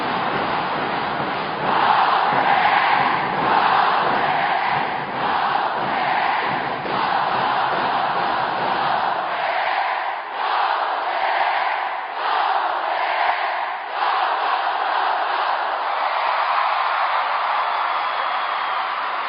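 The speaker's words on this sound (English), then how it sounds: "Listen to this crowd here at the Mall of Asia Arena." A large basketball crowd at the Mall of Asia Arena roars continuously in a noisy, distant-sounding wash, with rhythmic chanting swells and the low rumble thinning out partway through.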